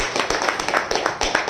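An audience at a product testimony event claps, a quick run of sharp, dense hand claps close by in a brief burst.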